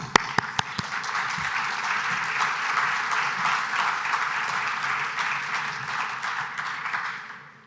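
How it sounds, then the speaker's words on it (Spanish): Audience applause at a business conference in Chile, a dense steady clapping from a full room that starts with a few sharp claps, holds loud for about seven seconds and then tapers off, with no talk over it. "Mónica, un aplauso."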